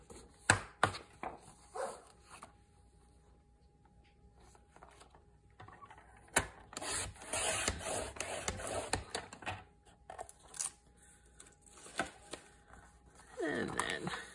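Paper gets trimmed by half an inch while making small journals, with several sharp close cuts and snips among some shuffling and brief handling noise.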